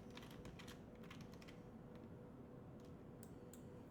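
Rapid typing on a computer keyboard, clusters of close, crisp key clicks in quick bursts with short pauses, over a steady low background hum.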